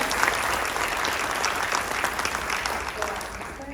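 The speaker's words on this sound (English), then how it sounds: "I want to give her a round of applause for also playing with us" Sustained applause from a school concert audience honoring a combined orchestra, dense and steady clapping filling the room for several seconds, with a voice faintly audible beneath.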